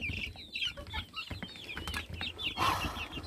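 Backyard chickens and chicks at a rural coop clucking around a feed bowl, several short overlapping clucks and a brief flutter of wings, close by.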